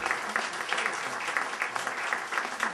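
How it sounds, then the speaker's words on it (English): Reunion audience of USS Brooke veterans applauding, a dense, steady wash of many hands clapping at moderate volume with no voices over it. "these two guys deserved a standing room of applause"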